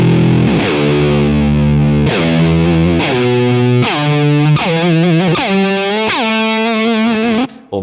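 Distorted electric guitar through an effects preset performs repeated dive bombs, each note swooping sharply down in pitch, a loud series of about six bends in steady succession with no talking.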